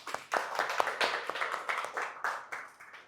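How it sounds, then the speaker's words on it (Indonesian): Classroom students clap their hands together in a short burst of scattered applause, uneven and fairly close, lasting about three seconds without talk. "Berikan tepuk tangan."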